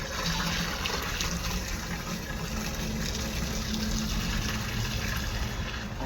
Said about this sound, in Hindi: अब इसमें हम पानी भर देते हैं।